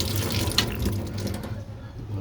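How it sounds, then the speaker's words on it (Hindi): Water runs steadily from a spring outlet extended for drinking at a mosque, a continuous splashing flow heard close by. "इस पानी के चश्मे का एक्सटेंशन दे दिया इन्होंने ये, ताकि लोग पानी बआसानी पी सकें।"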